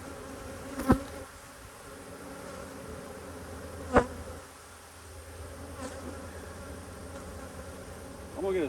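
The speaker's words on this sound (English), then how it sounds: "I feel like the bees are quieter." Honey bees buzz around an open hive during a hive inspection, with a honey super nearby. A steady, moderate hum runs throughout, broken by two sharp knocks and a brief clatter at the end.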